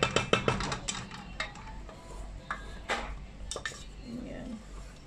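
Pasta being stirred in a pan with a metal utensil, giving a quick run of close scraping clinks and taps at first, then sparser knocks against the pan.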